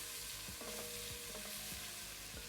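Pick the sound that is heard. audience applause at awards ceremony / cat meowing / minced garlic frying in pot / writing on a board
minced garlic frying in pot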